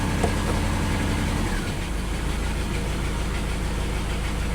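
A Lexus LS400 engine idles with a steady low rumble after starting, its early throb smoothing into an even drone.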